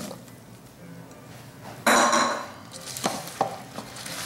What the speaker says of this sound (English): And stir to coat